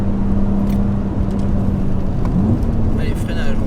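A BMW Z3M Coupé drives fast on a dry country road: a constant engine drone mixes with road and wind noise, and the pitch shifts briefly midway as if changing gear.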